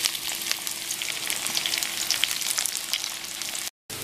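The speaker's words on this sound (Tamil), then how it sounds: "எண்ணெய் சூடாயிச்சு, வெங்காயம் போட்டுக்கலாம்." Onions frying in hot oil for rava khichdi give a steady, close hiss and crackle that runs continuously, broken only by a brief cut near the end; no one speaks.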